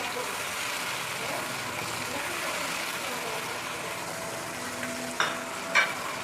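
Chicken frying with chillies, salt and spice paste, a steady close sizzle throughout with a couple of brief stirring clinks near the end, continuous and moderately loud.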